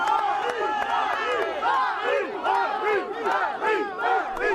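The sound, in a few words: crowd greeting a politician on a walkabout near Caen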